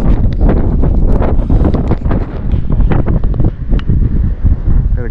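Strong wind buffets the microphone on an open Ladakh mountainside near Hemis and Matho, a loud continuous roar with rapid gusting surges and rumbling low-end buffeting, no voices.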